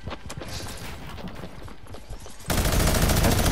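Gunfire from a multiplayer shooter game, a run of rapid shots that suddenly swells into a dense, loud burst of automatic fire near the end, with no talking.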